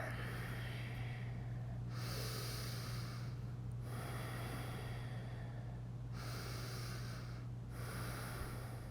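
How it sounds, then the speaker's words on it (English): Slow, deep belly breathing during a yoga session, with about five long airy breaths through the nose, each swelling and fading in a steady rhythm, heard close and alone over a low hum. "Keep the breath, big belly breaths."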